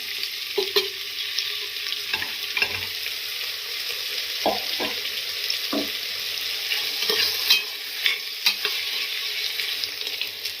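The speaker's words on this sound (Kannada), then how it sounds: "ಮಿಕ್ಸ್ ಚನ್ನಾಗಿ ಫ್ರೈ ಆಗಲಿ ಮಸಾಲಾ ಸ್ವಲ್ಪ ಘಾಟ್ ಹೋಗುತ್ತೆ" Potatoes, vegetables and masala for mint pulao sizzle steadily in a hot pan while a spoon stirs and scrapes the pan in irregular knocks, loud and close throughout.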